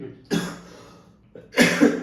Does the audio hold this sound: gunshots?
no